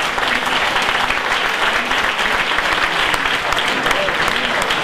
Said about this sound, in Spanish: así que este aplauso es todo tuyo